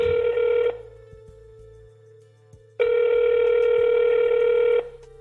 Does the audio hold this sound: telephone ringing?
yes